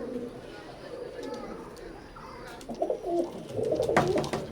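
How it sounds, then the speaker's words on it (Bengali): Teddy pigeons of Oman bloodline coo in soft, repeated throaty bursts close by, with faint human voices in the background toward the end. "এখন স্ক্রিনে যে কবুতর জোড়া দেখতে পাচ্ছেন সদ্য 10 পর কমপ্লিট করছে কবুতর জোড়া, ওমান ব্লাড লাইনের টেডি কবুতর"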